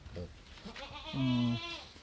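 A goat bleats on a goat farm, one drawn-out nasal call rising out of quieter farmyard sounds, close to the microphone and fairly soft overall.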